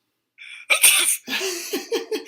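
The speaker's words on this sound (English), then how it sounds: "And that sneeze is brought to you by NyQuil." A man sneezes once, loudly and close by, with a sharp inhaled build-up followed by a burst of breathy release and some trailing sniffs or chuckles.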